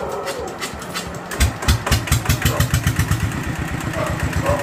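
A motorcycle with an ET 95 engine running on B7 diesel, cold after sitting unused for several days, cranks and catches, then settles into a loud, steady, thumping idle with evenly spaced pulses.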